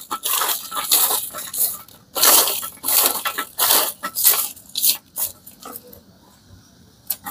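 Crisp homemade flattened-rice kurkure is tossed with a spice mix, making dry crunchy rattling bursts in quick uneven clusters, close and fairly loud, with short pauses between tosses.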